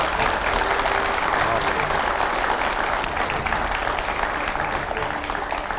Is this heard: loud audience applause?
yes